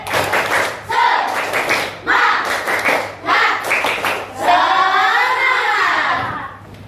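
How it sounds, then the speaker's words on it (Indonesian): In an Indonesian school classroom, students perform a patterned spirit clap, with bursts of sharp group claps and thumps in rhythmic sets. Young voices then chant together near the end. "Tepuk semangat."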